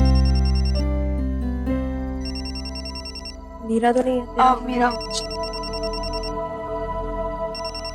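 A phone ringtone plays a repeating melodic pattern, muffled from inside a bag, while a person speaks briefly over it.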